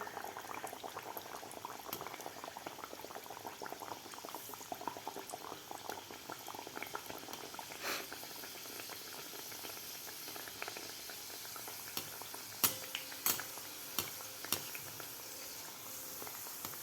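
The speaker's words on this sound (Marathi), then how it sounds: "मिडियम गॅसवर व्यवस्थित आपल्याला हे सांजुऱ्या तळून घ्यायच्या आहेत" Sanjori, semolina and jaggery puris, deep-frying in hot oil over a medium gas flame, a steady soft bubbling and sizzling throughout, fairly quiet and close, with a few sharper pops near the end.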